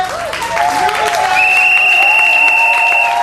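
A church congregation at a conference applauds to welcome Reverend Clémentine Fouti, with loud sustained clapping mixed with voices and high-pitched crowd cries.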